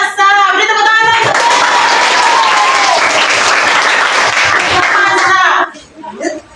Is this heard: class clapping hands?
yes